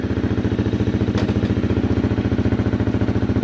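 A rough, loud motorcycle engine idles with a fast, steady exhaust pulse and a harsh rattling tone, running continuously without pause.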